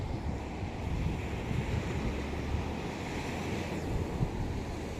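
Ocean surf rolls against the shore in a soft, continuous wash with wind noise on the microphone, fairly faint and distant, with no voices.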